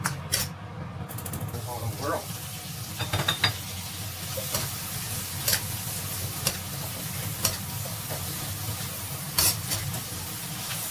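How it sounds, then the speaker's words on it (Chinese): Pork belly and green garlic stalks stir-fried in a wok with bean sauce, giving a steady sizzle broken by repeated scraping and clanking of the spatula against the pan, fairly close. "放入青蒜杆，稍微煸炒"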